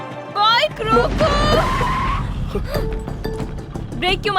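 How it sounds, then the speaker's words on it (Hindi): A motorbike brakes hard at speed, tires skidding and squealing loudly for about two seconds, with engine noise and a raised voice over the scene. "ब्रेक क्यों मारे तुमने?"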